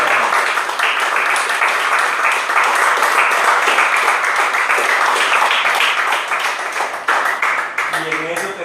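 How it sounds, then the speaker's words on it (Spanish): A church congregation applauds loudly at a sermon, a dense wash of many hands clapping that holds strong before tapering near the end, when a voice begins to speak. "Un aplauso fuerte."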